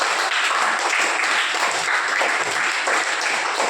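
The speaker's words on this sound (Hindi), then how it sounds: "आप सभी के लिए ताली बजाओ।" Children and teachers in a classroom clap together for everyone, a brisk, dense round of applause that stays steady and fairly loud throughout with no talking.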